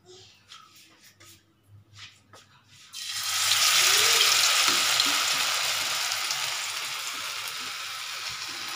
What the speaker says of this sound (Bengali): এবার চিকেনের এই পিসগুলো একটা একটা করে দিতে থাকি।